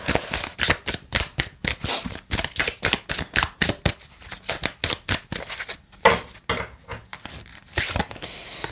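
Oracle cards being shuffled close to the mic, a fast, rhythmic run of crisp papery riffles and slaps that slows and turns more scattered toward the end.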